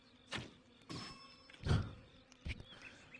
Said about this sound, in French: Comment ça, les abeilles l'attaquent pas?